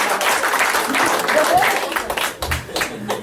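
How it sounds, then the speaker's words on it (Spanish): A church congregation claps during a sermon, a burst of crowd applause with voices mixed in that dips briefly before resuming, fairly close and loud. "pero ¿cuánto aplauso al Señor?"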